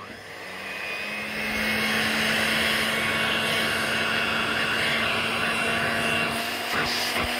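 Vintage vacuum cleaner running steadily with suction, a constant loud motor drone with a steady hum, close and continuous for several seconds without speech.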